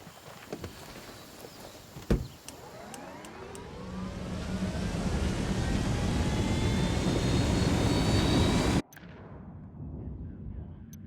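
Aircraft engine from a helicopter in the video game Ghost Recon Wildlands, a loud rushing roar that swells from about four seconds, holds steady with shifting pitch sweeps, then cuts off abruptly, with no one talking.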